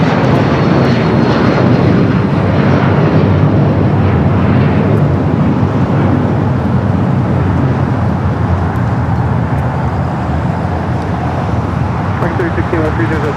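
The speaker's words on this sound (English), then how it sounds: "the United is 757 at 200. This one heading to Newark." A United Boeing 757-200 in the old livery departs LAX for Newark, its jet engines producing a loud, sustained broadband roar that holds steady across the whole span and slightly eases near the end.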